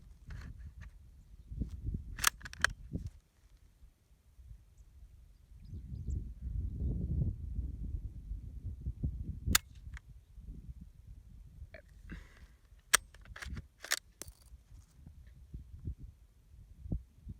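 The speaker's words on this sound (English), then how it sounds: "That is a definite primer strike, but the primer went in instead of firing." A striker snaps onto the primer of a 1952 Chinese surplus 8mm round that misfires instead of firing: a few sharp, isolated metallic clicks spread over a low, steady rumble.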